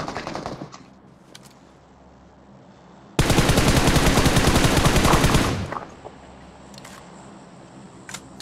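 Sustained rapid automatic gunfire in BGMI during a long-range fight, a loud continuous burst of about two and a half seconds, set between quieter stretches of game ambience with a few faint distant shots.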